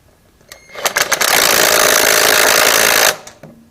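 An impact wrench with a swivel socket drives a bolt during a transmission install on a Wheel Horse 1054 garden tractor. A few short rattling bursts lead into a loud, steady two-second hammering whir that then cuts off.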